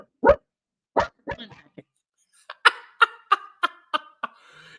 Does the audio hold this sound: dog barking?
yes